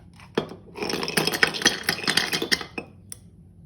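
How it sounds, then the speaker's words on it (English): Ice cubes dropped into a glass cup over tapioca pearls while making iced matcha bubble tea: a close, dense run of clattering, rattling knocks and clinks, with a sharp tap at the start and a couple of separate clicks after it, no talking. "Then, get 1 cup of ice cubes and put it right above."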